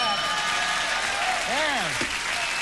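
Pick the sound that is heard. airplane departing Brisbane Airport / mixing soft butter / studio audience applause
studio audience applause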